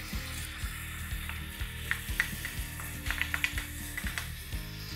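Paneer biryani masala with curd stirred in a pot, heard as a soft continuous sizzle with repeated spoon scrapes and light clinks against the metal pot, close and fairly quiet, with no voices.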